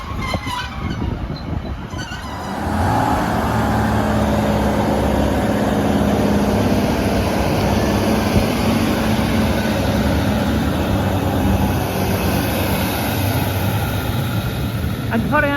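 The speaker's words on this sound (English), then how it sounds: "departing out there is 156471 on the severely delayed 1334 Northern service from Nunthorpe to Hexham" Northern train 156471 pulls out of Corbridge station, its loud, broad rumble building after a couple of seconds and then holding steady and close with no talk.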